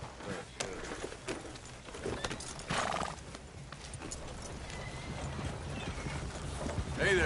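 Horse hooves clip-clop in an uneven rhythm in the Red Dead Redemption 2 video game, with a shrill whinny rising near the end and faint voices talking in the background.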